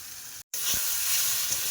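Chili powder and ginger-cumin paste sizzle loudly in hot oil, a steady bright hiss broken by a brief silent cut, with a few soft low stirring knocks.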